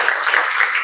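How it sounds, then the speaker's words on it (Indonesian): Brief burst of classroom applause for a student group about to present, dense steady clapping from many hands at close range, loud and lasting under a second. "Beri tepuk tangan untuk kelompok 3"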